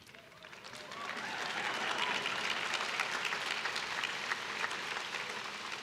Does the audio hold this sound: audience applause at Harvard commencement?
yes